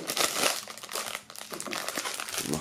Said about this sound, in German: wenn es dann auch mal aus der Folie gehen würde